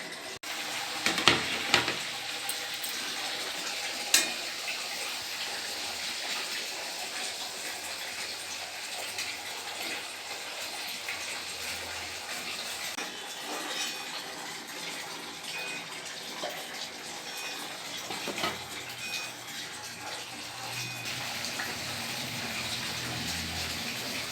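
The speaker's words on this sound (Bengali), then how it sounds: "এবার একটা একটা করে তেলে দিয়ে ভেজে নেব" Green pea kachori fry in hot oil, a steady bubbling hiss near at hand, with a few sharp clinks early on and some watery splashing sounds mixed in, no talking.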